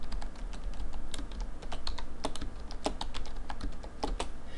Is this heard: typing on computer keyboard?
yes